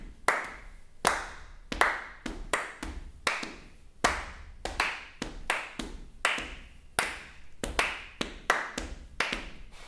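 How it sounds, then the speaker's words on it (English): A workshop group claps a 4 over 5 polyrhythm together, producing sharp, close hand claps in a repeating layered pattern with uneven spacing and no talk. "See if you can clap one of these or the other one as a group with me for now."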